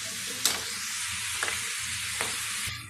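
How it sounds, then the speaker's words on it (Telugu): Pindi vantakalu snacks deep-fry in oil over medium heat with a continuous loud hiss and a few brief stirring clinks. "మీడియంలో పెట్టుకొని ఇవన్నీ ఇలాగే కలుపుతూ డీప్ ఫ్రై చేసుకోండి."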